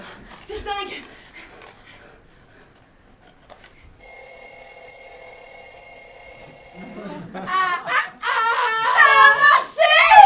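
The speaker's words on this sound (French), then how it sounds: "Un réveil! J'en ai un dans le sac!" An alarm clock rings for about three seconds, a bright, steady electronic tone, with a quiet voice just before it and excited voices breaking in right after.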